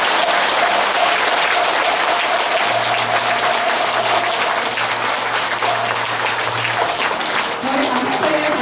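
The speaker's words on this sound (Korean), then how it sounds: "큰 박수로 해주시기 바랍니다" Steady applause from a large audience fills the whole stretch at a broadcaster's 25th anniversary ceremony, dense and even, with a faint low hum running underneath.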